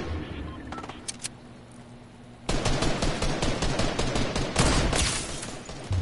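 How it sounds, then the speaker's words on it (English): Sustained automatic gunfire in a video game firefight: a few sparse clicks and shots at first, then loud, continuous bursts that crowd the rest of the moment. "Shooting at him."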